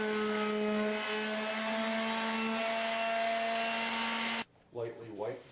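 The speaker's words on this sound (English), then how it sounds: "Lightly sand the edges as well." A wooden table's edges being power-sanded, a steady loud whirring drone with a strong tonal hum that runs continuously, then cuts off abruptly near the end, leaving a brief stretch of quieter sounds.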